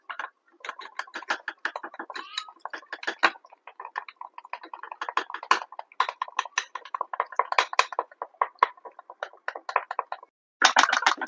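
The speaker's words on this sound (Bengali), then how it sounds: "এবার আমি জল দিয়ে গুলে দিচ্ছি। ভালো করে ফেটিয়ে নিতে হবে।" A whisk or spoon beating chili pakora batter with water in a bowl, fast dense clinking strokes in steady bursts, close and fairly quiet, a brief pause before a final flurry.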